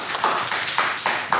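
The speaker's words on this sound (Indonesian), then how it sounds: "Tepuk tangan dulu." Audience clapping at a Papuan talk show event, a dense burst of hand claps with a few louder peaks, fairly close and steady for a brief moment with no talking.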